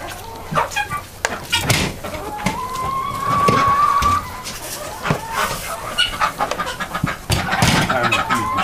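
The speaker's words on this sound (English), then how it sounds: "Time to feed the quail for the chicken." Chickens cluck and squawk close by in a farmyard, with irregular bursts of clucking and one drawn-out call, while a person talks intermittently in the background.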